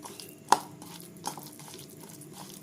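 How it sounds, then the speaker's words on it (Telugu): Fish pieces being mixed by hand in a bowl with pepper powder, chili, turmeric and salt: one sharp close clink, then soft wet stirring and a lighter knock, quiet and without talk. "మిరియాల పొడి, కారము, పసుపు, ఉప్పు, ఇవన్నీ కూడా బాగా కలిపేసుకోవాలండి"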